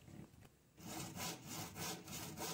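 Steady rhythmic strokes of a hand saw biting through plywood, close and clear, starting after a short quieter moment and continuing evenly without speech.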